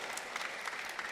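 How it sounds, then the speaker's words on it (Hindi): Audience at a Swami Ramdev yoga gathering applauding loudly and steadily, a dense, even wash of many hands clapping throughout the short burst. "एक बार जोरदार तालियां बजा दो।"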